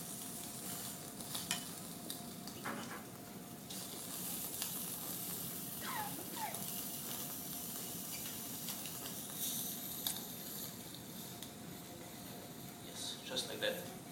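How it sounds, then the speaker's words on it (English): Pigeon pieces hit a hot frying pan and sizzle steadily, a soft, continuous hiss with faint crackles, while a chef talks through the cooking demonstration. "now the frying pan is hot. You just drop it in on each side"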